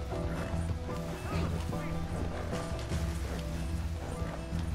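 Horse hooves clip-clopping in Red Dead Redemption 2, a steady run of soft thuds from a tired horse under continuous game music and ambient sound, with a voice talking over it.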